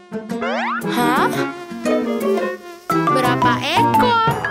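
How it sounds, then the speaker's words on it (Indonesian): In a cartoon children's song, playful buzzing insect sound effects swoop up and down in repeated whirring bursts over bouncy music. The effects are loud and close. "Lima ekor nyamuk."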